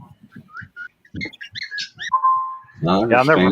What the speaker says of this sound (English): Because my young cockatiel is keep on chirping here at night